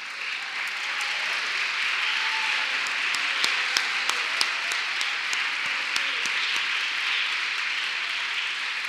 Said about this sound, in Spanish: Vamos a darle un aplauso al hecho que somos católicos.